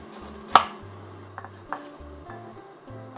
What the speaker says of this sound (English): with the ginger, just roughly chop them